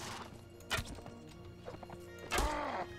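A horse in the Mount & Blade video game whinnies and snorts twice during battle, each cry a short loud burst, with faint hoof clatter between them.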